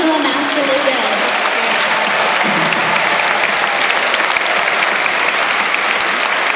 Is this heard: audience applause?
yes